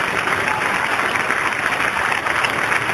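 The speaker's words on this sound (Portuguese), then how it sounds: "dê a melhor salva de palmas para a palavra de Deus" A church congregation applauds steadily during a worship service, a dense sustained round of clapping from many hands filling the room, with no talk over it.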